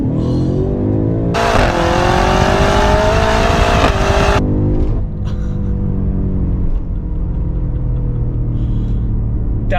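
A BMW F90 M5 engine revs hard and downshifts with a deep, loud rumble, a sharp surge in the middle and then a lingering roar, heard close with no talk.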